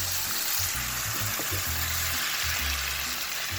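Peppers cooking in a hot pan for an egg stew, giving a steady close sizzle and hiss that keeps going without a break.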